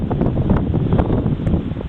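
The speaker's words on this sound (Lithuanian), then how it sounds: "per stiprus vėjas" Strong wind blasting a microphone outdoors right after a flight, a loud, continuous roaring rumble that holds steady throughout with no speech.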